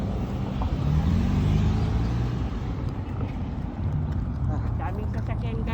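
Road traffic with many cars passing, heard as a steady close rumble of engines and tyres, while someone talks over it throughout.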